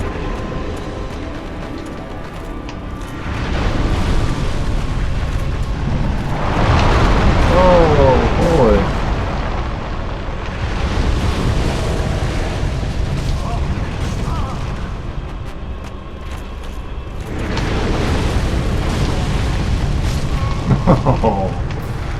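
Fire attacks from a Dark Souls boss erupt in heavy, rumbling booming blasts, several loud surges with crackling bursts between quieter lulls, while a player talks over the action.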